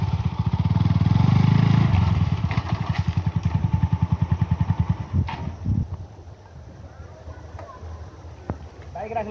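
A Pulsar motorcycle engine idles and revs nearby with a rhythmic, loud thumping pulse that builds then fades as the bike is shut down and parked, leaving quieter clatter and a voice.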